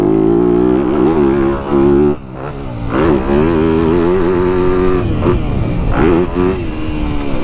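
A 250F four-stroke dirt bike, a KTM 250SXF or Yamaha YZ250F held in third gear, revs loudly and close with sharp rising and falling throttle blips throughout, a person talking over the engine.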